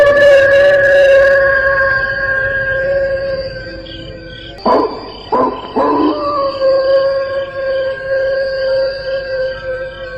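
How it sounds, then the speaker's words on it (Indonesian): Wolves howl in long, sustained tones that glide and overlap, loud and close at first, then broken by a few sharp knocks before the howling resumes more quietly. "Itu suara teman-temanmu, para serigala."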